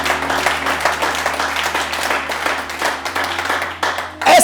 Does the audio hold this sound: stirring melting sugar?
no